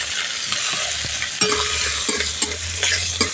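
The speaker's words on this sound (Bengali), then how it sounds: "1 মুঠো বাদাম নিয়েছি, বাদামটা ভেজে নেব।" Peanuts frying in oil with cumin, bay leaf and chili, with a continuous close sizzle broken by irregular stirring scrapes and clinks from a spoon against the pan. No voices.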